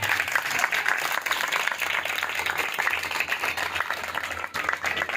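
A church congregation applauding, dense sustained clapping from many hands filling the room for several seconds, loud and continuous, with faint voices mixed in.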